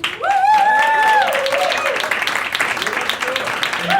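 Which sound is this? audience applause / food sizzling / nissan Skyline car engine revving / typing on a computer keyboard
audience applause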